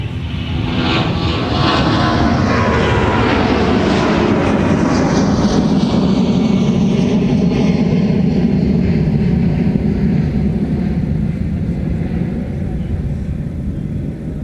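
A Delta airliner taxis at Minneapolis–Saint Paul airport, its jet engines producing a loud, continuous roar and rumble with a slowly shifting whine, heard close and steady throughout.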